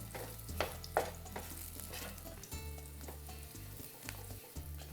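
Garlic cloves frying in a pan alongside mushrooms with rosemary and thyme, a soft steady sizzle with light stirring and scraping sounds, no talking.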